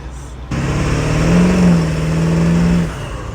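A 7.3 diesel van engine revs hard under throttle, a loud close mid-pitched roar rising and holding for a couple of seconds before easing off.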